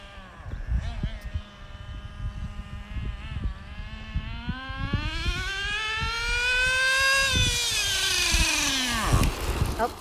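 A nitro-powered Traxxas Rustler RC truck screams at high speed near a big hill, its high engine whine rising and falling in pitch over crackling outdoor noise, growing louder as it passes.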